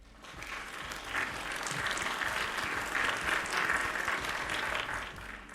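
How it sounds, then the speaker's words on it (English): A recorded applause effect triggered by a button during a live chat show, a soft, fairly faint wash of crowd clapping that swells slightly and holds steady for several seconds. "can you push the applause button?"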